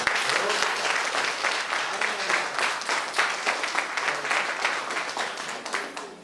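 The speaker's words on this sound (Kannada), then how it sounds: "ಅದಕ್ಕೊಂದು ದೊಡ್ಡ ಚಪ್ಪಾಳೆ ಹೊಡಿ" Audience applause at a ceremony inaugurating a children's residential room and closing a skills training program, dense and continuous clapping from a crowd that holds steady for several seconds without letting up.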